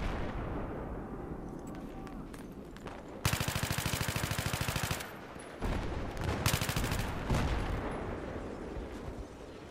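Machine gun fire in the video game Battlefield 3 on the Strike at Karkand map: loud rapid bursts of automatic shots, with heavier blasts and rumbling battle noise between them, and a voice faintly present in the mix.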